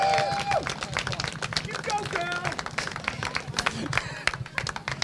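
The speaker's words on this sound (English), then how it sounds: "A huge round of applause, please" Crowd applause and clapping for a Mini X30 kart race finisher at the British Kart Championships at Larkhall, mixed with murmuring voices and chatter over the whole span.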